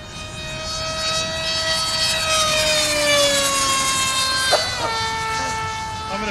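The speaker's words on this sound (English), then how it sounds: "Bring it by as close as I can for a flyby." An RC model airplane makes a close flyby, its engine whine climbing then dropping in pitch as it passes and recedes, a loud steady buzz with a brief bump midway.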